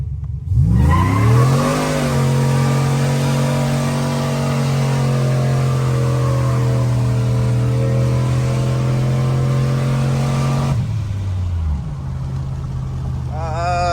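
A supercharged truck engine with a performance cam and a ProCharger revs up hard on a dyno, climbing in pitch and holding a loud, sustained roar for about ten seconds before cutting back to idle, close and alone.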